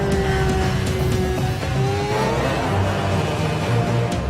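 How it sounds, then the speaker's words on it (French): An F1 car on an onboard simulator lap of Bahrain's Sakhir circuit, with a loud, continuous high-pitched engine whine rising and falling through gear changes, heard alone. "Nous voici à Bahreïn pour un tour de simulateur embarqué."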